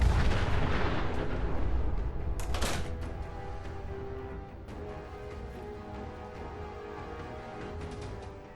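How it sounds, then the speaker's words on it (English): Gun turrets in Fallout 4 fire a heavy, rumbling barrage that booms loudly at first, then fades into a steady lower roar with a few sharp cracks. "Damn turrets."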